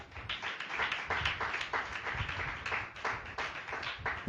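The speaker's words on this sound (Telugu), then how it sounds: "కొట్ట చప్పట్లు గట్టిగా" A church congregation clapping loudly together during a Sunday sermon, a dense, steady patter of many hands filling the room, with no one speaking over it.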